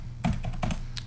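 Fingers tap quickly on a computer keyboard, four or five close, crisp keystrokes in a short burst with no talking.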